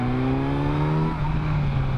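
A steady 2017 Kawasaki Z900 motorcycle engine hum with a rising turbo-like whistling whine on top, holding and then easing off briefly, heard without any talking.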